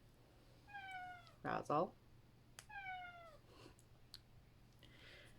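A house cat meows several times in short, fairly faint calls with pauses between them, and a person speaks briefly in between.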